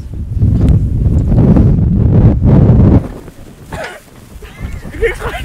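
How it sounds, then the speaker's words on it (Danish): Wind blowing outdoors in rainy weather, a loud gusty rumble buffeting the microphone for a few seconds before dropping off, after which quieter sounds and faint voices follow. "Det blæser."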